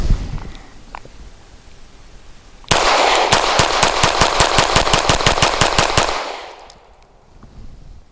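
A Grand Power K100D pistol fired rapidly at cardboard on a shooting range: one loud, sharp burst of about sixteen evenly spaced shots in quick succession, ringing out alone and then fading.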